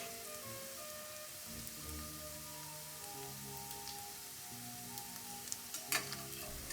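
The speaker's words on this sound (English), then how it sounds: "I have just flipped over the onions as they are browning on the bottom" Sliced onions fry in oil for birista, a soft steady sizzle and crackle like light rain, with a few faint clinks near the end.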